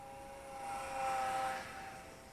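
A small Eachine Mini P47 Razorback RC plane with a 500mm wingspan flies past, its electric motor and freshly lubricated gears giving a thin, steady whine that swells briefly as it nears, then eases off.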